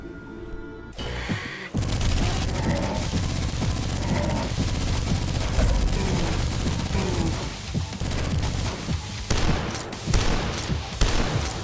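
Heavy double-barrel shotgun blasts from the retro shooter Dusk boom repeatedly and loudly, fired in rapid succession amid crashing impacts and chaotic combat noise, no talking.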